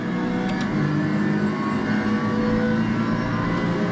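A race car engine revs hard and climbs under acceleration in a sim racing game, a loud, steady mechanical drone that holds for several seconds with no talk over it.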